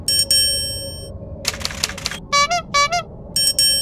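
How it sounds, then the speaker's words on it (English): A metal triangle rings out in a Thomas the Train cartoon, several bright struck tones repeating in short bursts with ringing overtones, alongside other chiming cartoon sounds and no talk. "It's only a metal triangle."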